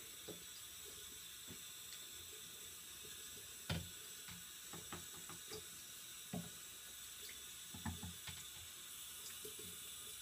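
Cold water runs from a tap over a Breyer model horse as soap is rinsed off, a steady faint stream with occasional soft knocks and handling clicks from the plastic horse under the flow.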